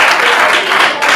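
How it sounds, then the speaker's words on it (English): An audience at an education programme in Nigeria claps, a dense, loud burst of applause that fills the whole moment. "you deserve a round of applause"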